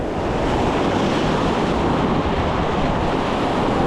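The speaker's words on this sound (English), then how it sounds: "Now that the tide has gone out and the waves are kind of chilling out just a little bit" Ocean waves and surf at a New Jersey shore during saltwater fishing, a loud, continuous broadband wash mixed with wind buffeting the microphone, with no voices.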